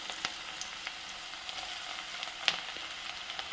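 Faint, steady sizzling of cauliflower pieces deep frying in oil for gobi manchurian, with small scattered pops and crackles throughout.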